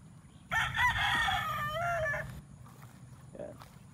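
A gamecock crows once, loud and fairly close, a long strained call over quiet outdoor background, followed by faint clucking.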